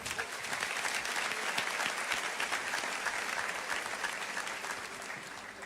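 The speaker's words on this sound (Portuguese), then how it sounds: "Aplauda o Senhor." Church audience applauding steadily, a full, dense wash of many hands clapping at moderate distance, sustained evenly throughout with faint voices mixed in.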